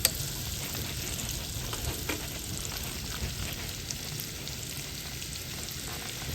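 Gnocchi cook alongside Italian sausage in a pan, a quiet even sizzle and crackle running throughout with a faint knock at the start.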